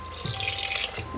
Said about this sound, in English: we add our chicken stock all at once.